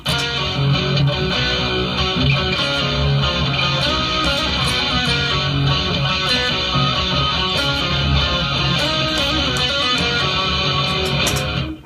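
Two guitar parts play together throughout, a busy riff over steady chordal accompaniment, dense and evenly loud with no voices.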